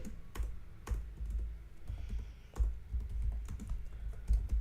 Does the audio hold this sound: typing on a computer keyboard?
yes